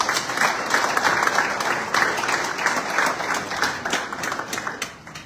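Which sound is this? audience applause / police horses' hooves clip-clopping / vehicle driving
audience applause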